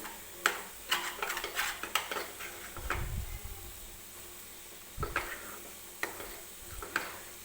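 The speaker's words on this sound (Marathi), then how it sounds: "ही डाळ आपल्याला व्यवस्थित भाजून घ्यायची आहे" Damp moong dal roasts in a kadhai, stirred with a spoon that scrapes and taps against the metal in scattered clicks and a few dull knocks, with quiet frying noise underneath and no speech.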